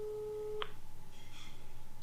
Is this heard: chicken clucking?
no